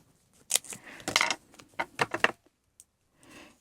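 Scissors picked up and handled at a scrapbooking table while making a Christmas paper pouch, a few close metallic clinks and snips in a short cluster, followed by faint rustling.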